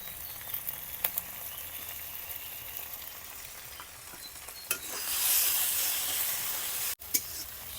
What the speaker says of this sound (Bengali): এখন সরিষার পোস্ত বাটাটাও দিয়ে দিলাম।